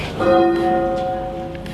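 Church tower bells rung by hand with ropes, a single clear bell tone striking and humming with a sustained ring that fades slowly, no voices.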